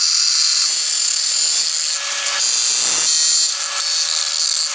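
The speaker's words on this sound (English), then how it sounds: "cut our spacers into these 3 separate parts" A saw cuts through tie rod spacer stock for a Toyota Tacoma, a continuous loud, harsh high-pitched grinding rasp with brief dips in intensity, no talk.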